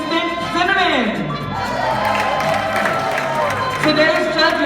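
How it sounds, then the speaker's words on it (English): Crowd noise at a Samoan AOG youth rally in Oceanside, San Diego, with cheering, whoops and scattered applause running steadily throughout, mixed with an amplified voice and music-like tones. "Let's cheer on our lovely assistant, Cinnamon"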